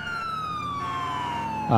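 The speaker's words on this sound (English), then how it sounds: "We're going to go and cut the siren here." A police car siren in Grand Theft Auto IV wails loudly and steadily in a falling sweep, near and continuous, with a sharp change in tone right at the end.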